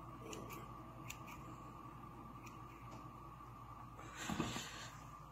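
Scissors snipping onion and leek seedlings, short crisp cuts at an even pace, faint and close, with a slightly louder rustle and snip near the end over steady low background hum.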